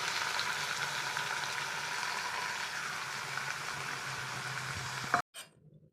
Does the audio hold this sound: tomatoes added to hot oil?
yes